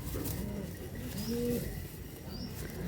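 Pigeons held in hand at a Hooghly bird sale coo in soft, low repeated calls, close and clear, with faint fluttering beneath a steady background hum.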